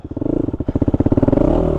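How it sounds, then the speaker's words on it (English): Quad bike engine in a burnout, a close, loud rapid pulsing motor note that rises in pitch as it revs, with scraping clatter. "Let's do one burnout for the heck of it"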